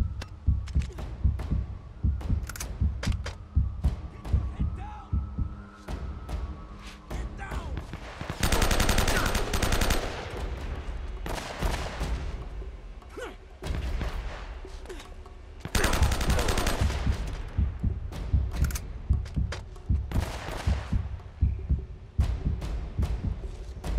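Rapid gunfire from a weapon in the PS4 video game Uncharted: Drake's Fortune, with bursts of loud repeated shots, sustained bright noisy stretches and scattered single cracks over game ambience.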